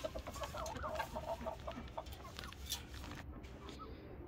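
An Aseel hen clucks repeatedly in short, uneven bursts, fairly close, over a steady background of farmyard noise.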